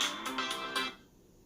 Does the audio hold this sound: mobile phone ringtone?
yes